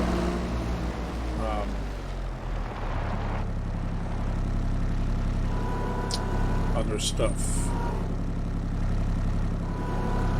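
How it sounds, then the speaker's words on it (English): A steady, low engine drone runs throughout, with a person talking briefly over it near the start. "you are probably able to pick up the sound of the tractor here"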